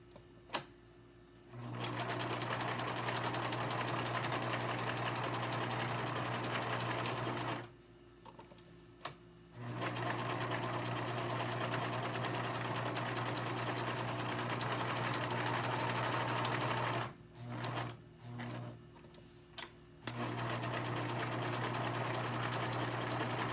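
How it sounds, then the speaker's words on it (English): A sewing machine stitches the edges of a 3D fabric face mask in steady, close runs that stop twice and then resume, the even whirr loud and alone. "I'm going to sew just all the way around the edges except for these two short ends."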